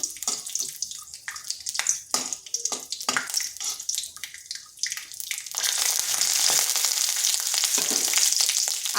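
Peanuts frying in a pan for a vegetarian cabbage dish, heard first as a run of scraping stirs and light rattles, then a steady loud hiss of frying that continues to the end.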